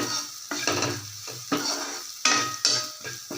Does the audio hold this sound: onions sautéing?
yes